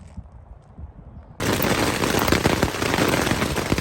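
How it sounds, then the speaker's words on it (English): After a quiet moment, a sudden dense roar of marble-sized hail pelting down begins, loud and continuous with rapid hard impacts. "It's pelting marble-sized hail out of nowhere."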